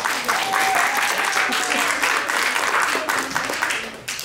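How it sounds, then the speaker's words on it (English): Audience applause at a college event, dense steady clapping throughout, with a few cheers and voices over it, easing off at the end. "Let's give them a round of applause."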